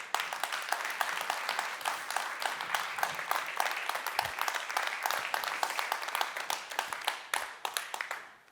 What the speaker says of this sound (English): can I have a big round of applause indeed for the